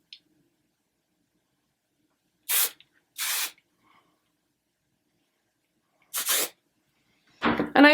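Short hissing bursts of hairspray sprayed onto curled hair, four quick close sprays spaced apart with near silence between them.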